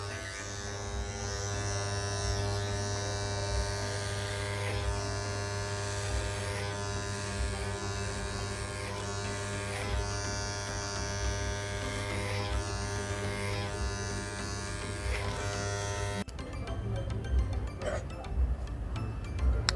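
An electric clipper fitted with a 1.5 guard trims a beard, a steady close droning buzz that holds constant and then changes to a rougher, more broken texture near the end.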